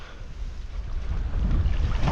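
Strong wind roars and buffets a microphone on Ragged Lake in Algonquin Park, a deep steady rush that grows louder toward the end.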